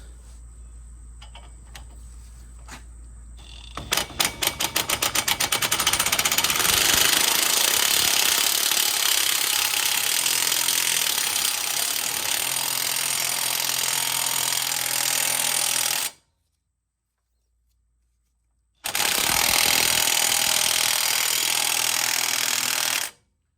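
A Harbor Freight air hammer pounds a wheel stud on a 2003 Chevy Trailblazer, a loud rapid rattling hammering that starts after a low hiss, runs continuously, stops briefly, then resumes.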